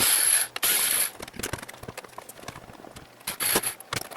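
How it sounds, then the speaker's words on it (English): Screwdriver backing out the last two screws from the stand of a 2011 HP TouchSmart 610 all-in-one computer, giving close, rapid ratcheting clicks between short loud scraping rustles. "it's going to support the screen part of this machine as we take these last two screws out"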